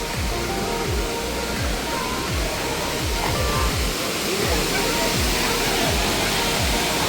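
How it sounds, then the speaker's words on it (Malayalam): Five Falls at Kutralam pours down in a dense, unbroken roar of rushing water, loud and close, with low thumping pulses beneath the broad hiss. "ഈ വെള്ളം 5 ആയിട്ട് ഒഴുകുന്ന 1, 2, 3, 4, 5 കണ്ടോ, ഇതാണ് 5 ഫാൾസ്"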